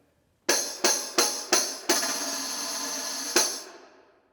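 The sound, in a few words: tambourine with wooden shell and metal jingles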